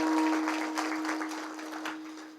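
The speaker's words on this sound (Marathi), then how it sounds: "जोऱ्यात टाळी वाजवा एक बार" Applause from a village audience at a kirtan, a dense burst of hand claps that slowly fades over a couple of seconds, with a steady tone humming beneath it.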